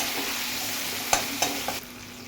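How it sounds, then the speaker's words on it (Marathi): Tomatoes frying in a pan for a vegetable curry, a soft continuous sizzle broken by a few sharp spoon knocks against the pan, close and quiet. "आपण 1 मिनिट फ्राय करून घ्यायचं"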